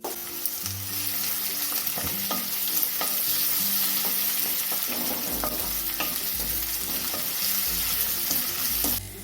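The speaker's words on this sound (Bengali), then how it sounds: "পেঁয়াজটা দিয়ে দিলাম হালকা লাল লাল করে ভেজে নেব" Finely chopped onion frying in hot oil for baingan bharta, a loud, dense sizzle running throughout with frequent scraping stirs against the pan, close up and without talk.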